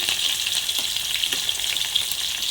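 Capsicum, tomato and carrot frying together in a pan, a loud dense sizzle with a few soft stirring knocks, close and continuous, no voices.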